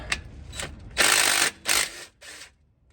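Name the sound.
impact wrench removing transmission pan bolts on Ford F150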